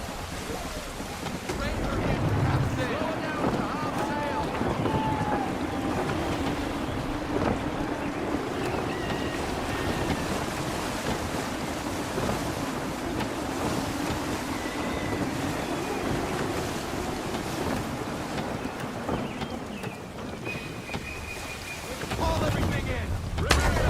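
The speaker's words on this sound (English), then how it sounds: "Wind looks to be shifting. Stay alert, Connor. Gusty winds can be difficult to manage." Steady, loud gusty wind roars over rushing water while a sailing ship moves in Assassin's Creed III, a continuous broadband rush with faint creaks and tones.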